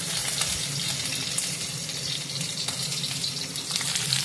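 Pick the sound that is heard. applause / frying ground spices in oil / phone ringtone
frying ground spices in oil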